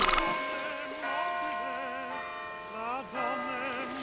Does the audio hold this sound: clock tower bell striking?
yes